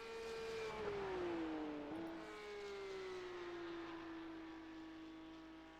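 Porsche Cup race cars passing at the finish, one engine whining closer and dropping in pitch as it goes by, then fading steadily into the distance with a sustained drone.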